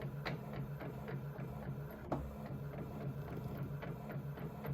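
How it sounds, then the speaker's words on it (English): A printer prints even-numbered pages on A6 paper, giving a steady mechanical whir with rhythmic clicks and soft thumps throughout, moderately quiet with no talking. "Now, all right, so I'm printing my even pages first."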